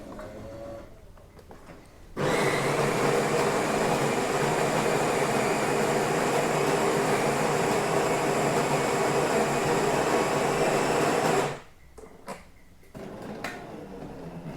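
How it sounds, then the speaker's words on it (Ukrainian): A Jura J6 (2017) coffee machine runs its pump while brewing, giving a loud, steady buzzing drone of about nine seconds that starts and stops abruptly, with quiet room sound before and after. "І чуєте, як працює помпа?"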